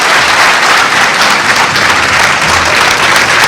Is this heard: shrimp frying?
no